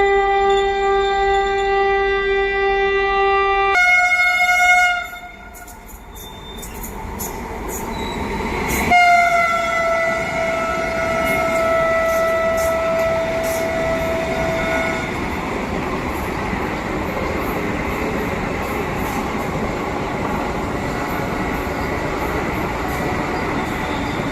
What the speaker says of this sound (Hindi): भारत एक्सप्रेस रानी कमलापति